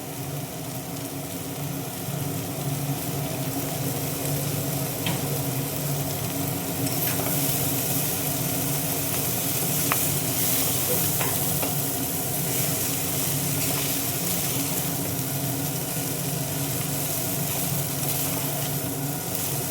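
Boiled chowmein noodles, dressed with oregano and sauce, stir-fried in a pan for Kolkata street-style egg chowmein: a steady, dense sizzle with scraping stirring and occasional clinks, loud and continuous throughout.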